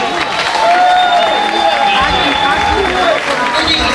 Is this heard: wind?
no